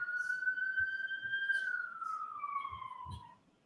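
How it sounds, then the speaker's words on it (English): An emergency vehicle siren passes by outside, a steady wail that slowly drops in pitch as it goes, heard from indoors at moderate loudness and fading out near the end. "I just wanted the siren to go by"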